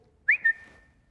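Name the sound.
man imitating a whistle to call a dog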